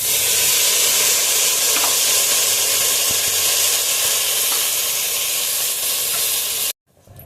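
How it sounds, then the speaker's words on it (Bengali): Hot water hits fried lentils in a hot pan, setting off a loud, continuous sizzle and steamy hiss that runs unbroken for several seconds before cutting off abruptly. "ডালগুলো ভাজা হয়ে গেছে এখন গরম পানি দিয়ে দিচ্ছি"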